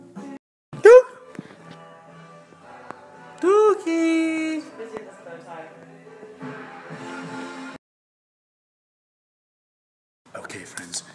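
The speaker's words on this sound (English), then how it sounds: "Hey, puppy." Puppy gives a few sharp yips and whines, loud and close, mixed in with casual talk in a home, then goes quiet before more voices.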